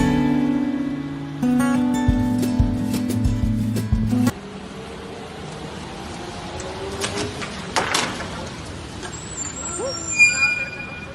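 A trolleybus stands on a Vilnius street after coming off its overhead wires. It gives a steady electric hum that cuts off, then a sharp burst of air-brake hiss and scattered clanks, with people talking nearby.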